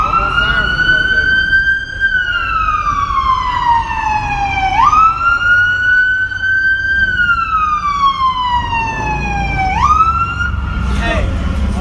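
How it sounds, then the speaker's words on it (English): A loud emergency vehicle siren wails, rising and falling in long slow sweeps, repeating several times close by, with traffic rumble underneath. "One more siren on that."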